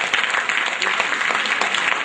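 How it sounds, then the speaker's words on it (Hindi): Audience applause at a ceremony honouring guests, a steady broadband patter of clapping held for about two seconds at a fairly constant level. "जोरदार ताली।"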